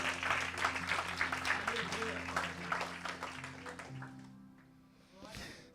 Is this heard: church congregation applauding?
yes